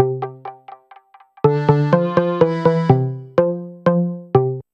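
A synth line doubled by a Numa Player accordion in a 3/4 waltz feel: a few light, sparse opening notes, then a steady run of loud, sustained reedy tones with sharp attacks, each note ringing before the next, with no voices.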